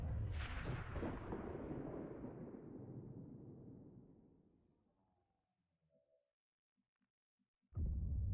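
A sticker bomb detonates in XCOM 2 Long War of the Chosen: one loud, deep blast at the start that rolls and fades over several seconds into near silence, followed by faint clicks and a sudden new sound at the end.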